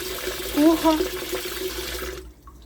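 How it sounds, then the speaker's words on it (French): Water poured into a ritual bath basin holding lemon halves, a steady running splash with a voice speaking over it, ending abruptly into near silence. "On rajoute de l'eau pour qu'il y en ait un peu"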